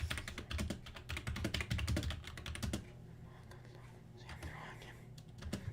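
A computer keyboard clatters in rapid, dense keystrokes for about three seconds. The typing stops, and soft whispering and faint movement follow in a quiet room.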